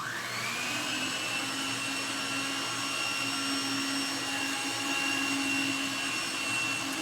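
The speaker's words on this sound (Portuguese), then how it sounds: "Bater os dois só para homogeneizar." An electric mixer whirs steadily while beating two ingredients together for a dessert, a constant close motor drone with a high whine that holds unchanged throughout.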